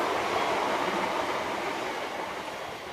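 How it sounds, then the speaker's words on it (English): A loud, steady roar of a train rushing past close by in Folkestone, Kent, England, with rumbling wheels on the rails and no voices. "there's a train that's going by right behind me"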